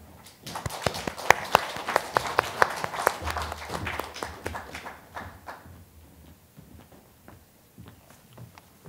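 Audience clapping at a literary award ceremony bursts out loudly, a dense patter of hands that builds, then gradually thins and fades to scattered claps.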